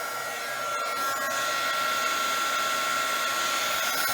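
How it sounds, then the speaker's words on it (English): Heat gun blowing a continuous loud rush of hot air across a resin canister lid held with hot glue, steady and close throughout with no speech. "Because of that hot glue, I'm going to use my heat gun."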